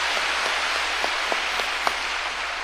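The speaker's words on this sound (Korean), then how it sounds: "박수로 하나님께 감사합니다" A congregation applauds during a Korean church sermon, a steady, even wash of many hands clapping at moderate volume with no voices over it.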